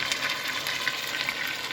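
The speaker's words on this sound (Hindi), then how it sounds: "चिकन फ्राई हो रहा है" Chicken pieces frying with onion, ginger and garlic for a restaurant-style biryani, giving a steady, close sizzle that holds evenly throughout with no voices.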